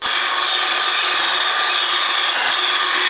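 A handsaw rasps steadily back and forth through a piece of wood for a few seconds, with continuous, close, fairly loud scraping strokes and no voices.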